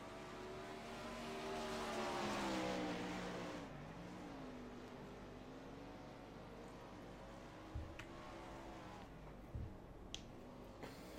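World of Outlaws sprint cars racing through turns 3 and 4 on a dirt track, engines rising and falling in pitch as they sweep past, loud at first and then receding, with a few sharp knocks.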